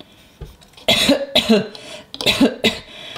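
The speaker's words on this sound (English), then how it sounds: "George is still coughing" A young child coughs in a quick series of harsh, close bursts, with brief pauses between the fits, from a cartoon piglet.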